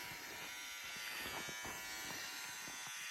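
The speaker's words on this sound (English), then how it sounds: "my shaver sounds like it's gonna stop working" Electric shaver buzzing steadily and faintly on its own for a few seconds, with a slightly uneven, struggling motor tone as if weakening, no voices.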